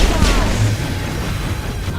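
Loud gunfire in a Mass Effect battle, a dense blast with booming low rumble and crackle that carries on steadily through the whole stretch, with voices mixed in.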